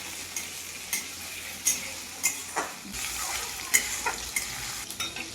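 Chopped onion sizzles in hot oil in a kadai while a spatula stirs it, with steady frying hiss and several sharp scraping clinks against the metal, close and clear.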